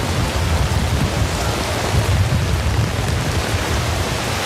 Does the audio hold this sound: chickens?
no